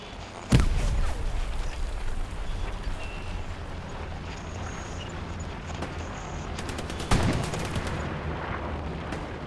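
Gunfire in the video game Hell Let Loose, one sharp close shot early and a distant burst later, then a rapid string of cracks near the end, over a steady low rumble of battle.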